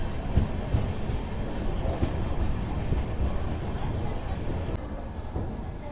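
A Tirupati–Secunderabad superfast express with LHB coaches stands at Pigileru station, its engine and coaches rumbling steadily and loudly for several seconds while pigeons are faintly audible nearby.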